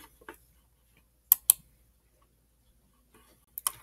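Computer keyboard on a Chromebook, a few scattered key clicks with two sharp paired taps and another pair near the end, close and clear against near silence.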